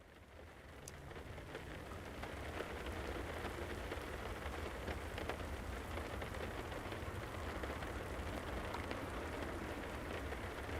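Steady rain falling in the Assetto Corsa EVO racing game, a dense, even hiss with soft pattering drops that holds at constant loudness throughout, close and unbroken, with no speech or other sounds over it.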